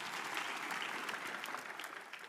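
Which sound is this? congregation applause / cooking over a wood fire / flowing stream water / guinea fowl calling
congregation applause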